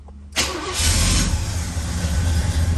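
A 1969 Oldsmobile Cutlass convertible, fitted with a push-button starter, cranks and fires after a short quiet moment, then settles into a loud, steady rumbling idle close by.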